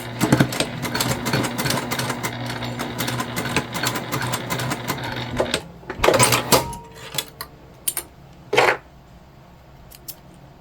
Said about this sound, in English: I'm going to go ahead and just get close to this triangle and stitch just straight across